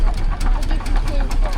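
A Ruston engine runs at a steam rally at Parham Park in Sussex, giving a loud, close, steady rhythmic chugging with regular mechanical knocks throughout.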